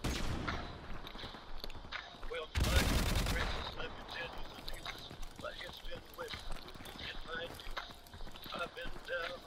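Gunfire in an online shooter match, a loud dense burst of shots near the start followed by scattered fainter hits under game noise, with someone talking throughout.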